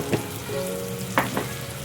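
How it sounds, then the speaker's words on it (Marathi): Red chili powder and turmeric fry in hot oil as a tempering for a chicken dish, a soft close sizzle with a couple of faint stirring taps over about two seconds. "छान असं फ्राय करायचंय"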